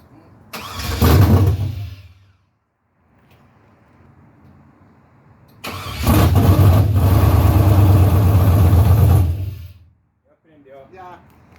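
LS-swapped engine in an OBS truck cranks without firing: two bursts of starter whirring, a short one then a longer steady crank of about four seconds, each stopping without catching, with brief talk between.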